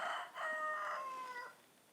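A rooster crows once in a garden plot, a loud, close call that rises and holds for about a second and a half before breaking off, with quiet outdoor background after.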